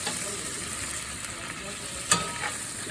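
Potatoes and onions fry in a pan, a constant close sizzle with a few brief crackles and a sharp pop near the end, no voices over it.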